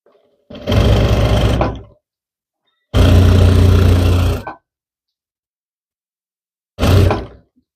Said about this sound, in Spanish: empezamos a coser